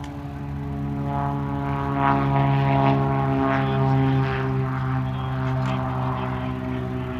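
Propeller airplane in flight on a short hop from Van Nuys to Zamperini Field, a loud steady engine drone with a constant harmonic hum heard from inside.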